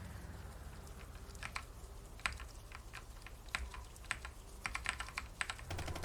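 Keys clack on a computer keyboard in quick, uneven bursts of taps, close but fairly quiet over low background hum, with no talking.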